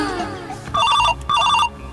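A telephone rings twice in short warbling electronic bursts, close and clear, after a moment of faint background sound.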